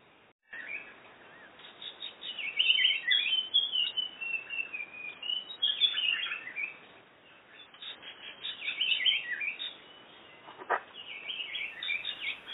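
Repeated clear whistled calls of a blue pitta ring out over a soft hiss of forest ambience in Kaeng Krachan, Thailand, coming in phrases with brief pauses, moderately near.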